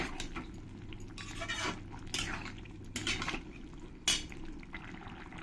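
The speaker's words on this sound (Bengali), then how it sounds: "আমি এবার একটু হালকা করে গরম মশলার গুঁড়ো দিয়ে দেব দিয়ে একটু ভালো করে আমি নেড়ে মিশিয়ে নেব সব কিছুর সঙ্গে" Garam masala being stirred into a soybean and egg curry in a pan: repeated metal spatula scrapes and clinks against the pan over a low simmering hiss, close and moderately loud.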